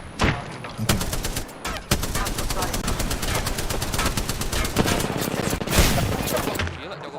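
Rapid automatic gunfire in a shooter video game, dense repeated shots and bursts filling the whole stretch, close and loud, with players talking over it.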